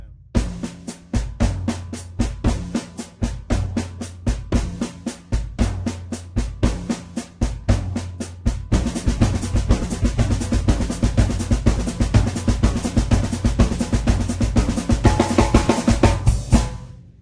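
A drum kit plays a busy, even samba batucada groove, first sparse then fuller with constant ticking cymbal or snare strokes, steady and close.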